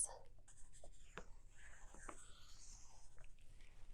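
A pencil scratches across paper while drawing a circle, soft irregular scraping strokes up close and faint over a quiet room, lasting a few seconds.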